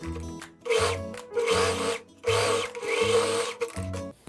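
A sewing machine finishes the hem of a blouse from a sewn shorts-and-blouse set, racing in five quick, loud bursts of stitching separated by brief stops, close to the ear.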